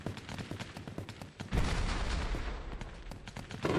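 Sniper rifle fire in the VR shooter Plastic Battlegrounds, a sharp report around the middle followed by a loud booming rumble, with scattered distant shots and cracks before and after.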